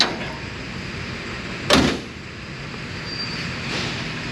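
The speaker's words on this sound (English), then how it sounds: "Let me open this real quick." The door of a Pontiac Firebird under restoration shuts with a single solid thunk, near and brief, against a steady low workshop hum.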